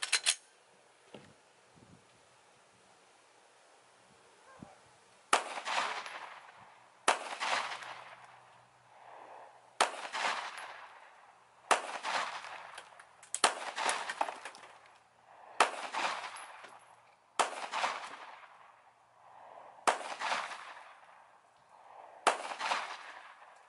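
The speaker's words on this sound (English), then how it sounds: "I'm gonna start with the 9mm first. S&B is the ammunition." Nine-millimetre pistol firing S&B ammunition into a concrete block outdoors: a series of sharp, loud reports at steady intervals of a few seconds, each with a brief ringing decay, after a quiet opening stretch.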